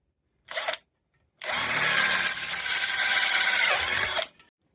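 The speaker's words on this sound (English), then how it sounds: "So I got to drill all the legs out" A short whir from a power drill, a pause, then a sustained high-pitched drilling run of about three seconds into a wooden desk leg, close and loud, ending abruptly.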